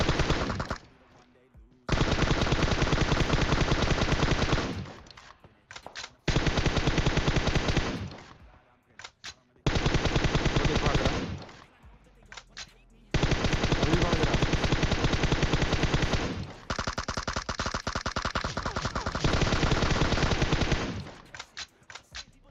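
Long bursts of rapid automatic gunfire from an M416 rifle in PUBG Mobile crackle in repeated volleys, separated by brief silences, loud and close with a sharp, compressed game-like quality.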